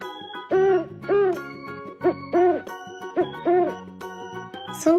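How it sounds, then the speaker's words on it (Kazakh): An owl hoots in a series of about six soft, rounded calls in a slow uneven rhythm, heard close and clear with a faint tinkling tone beneath. "Үкі."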